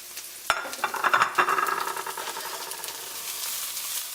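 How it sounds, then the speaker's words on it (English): Cut onion dropped into a separate hot pan for paella, setting off a sudden sizzle with a few stirring clatters, then a steady, close frying hiss. "you're gonna add your cut onion into a separate pan"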